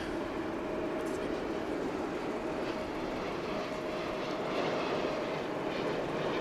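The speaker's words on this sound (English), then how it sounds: "So let us get back to the Qantas Dreamliner, which is headed to Melbourne." A Qantas Boeing Dreamliner bound for Melbourne roars at Dallas/Fort Worth Airport, a constant, dense jet-engine rush with a thin steady whine running through it, loud and unbroken throughout with no voices.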